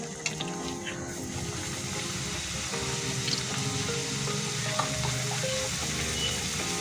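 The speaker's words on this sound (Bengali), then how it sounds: "মটরশুঁটির কচুরি ভেজে নেব।" Pea-filled kachori fry in hot oil with a dense, steady sizzle that stays close and even throughout, without pause.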